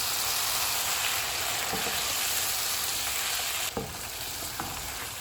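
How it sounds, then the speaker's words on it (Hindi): Cream and butter are stirred into a mutton karahi, producing a continuous bubbling fry hiss with a few spatula scrapes and a sudden shift in the sizzle partway through, close and steady. "क्रीम डाल देंगे, बटर, इनको मिक्स करेंगे"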